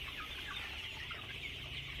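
A crowded flock of 40-day-old farm broiler chickens clucks and chatters continuously at moderate distance, a dense overlapping murmur of calls over a steady background hum from the poultry house.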